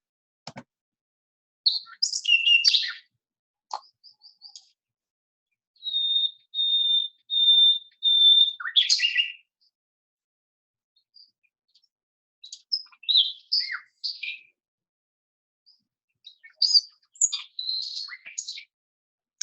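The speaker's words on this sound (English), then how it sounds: "that was like a pretty little bird song, right? Like different little sounds and some tweets" A small bird sings alone in clear bursts: sharp chirps, a run of steady whistled notes, then scattered tweets with silent gaps between phrases.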